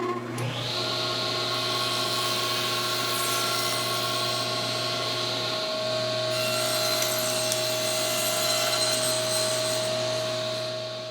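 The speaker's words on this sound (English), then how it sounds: "I'm going to trim them to final length here on the table saw" Table saw trimming wooden parts to final length for a console table, motor spinning up to a steady high whine and blade cutting continuously, loud and close with no talking.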